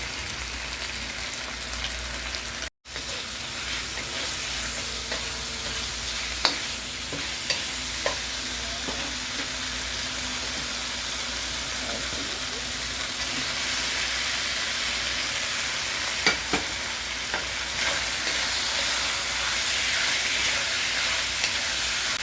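Pepper steak sizzles in a hot pan in Chinese-takeout style, a long even frying hiss at moderate loudness with a few faint clicks and one brief dropout, no voices.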